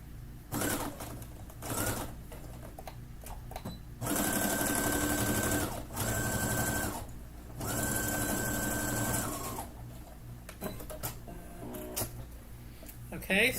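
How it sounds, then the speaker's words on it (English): A sewing machine stitches straight seams through layered fabric pieces for a simple drawstring bag. It runs in several steady whirring bursts of a few seconds each, with short pauses between them, while a person talks nearby. "mark it across and sew straight down, making sure your fabric pieces are together and flat"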